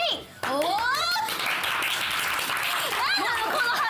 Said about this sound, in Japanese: なんだろこの拍手は